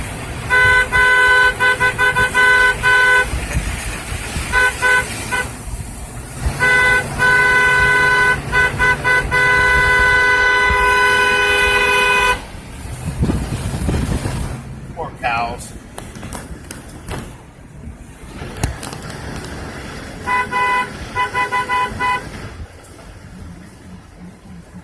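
Car horn honking on a rural road with cows nearby, several loud, sustained blasts in repeated bursts heard from inside a vehicle, with engine rumble and people talking between them.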